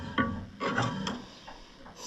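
Tools clink and rub against each other as someone rummages through a toolbox for a screwdriver. There are a few close, woody knocks and scrapes over about two seconds.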